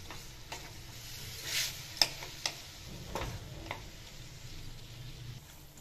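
A jaggery and coconut modak filling is stirred in a pan over a medium-high flame, with a low sizzle under scattered spatula scrapes and a few sharp taps on the pan.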